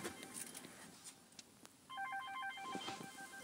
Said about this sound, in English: Someone's phone ringing.